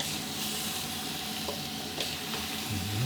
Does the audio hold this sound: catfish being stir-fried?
yes